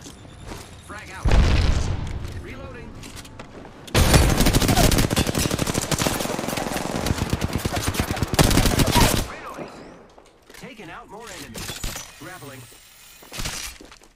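Grenade explosion in the Apex Legends shooter: a loud crashing blast with shattering debris and gunfire rolling for several seconds, framed by quieter moments with a voice talking near the end.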